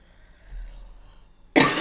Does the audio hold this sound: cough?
yes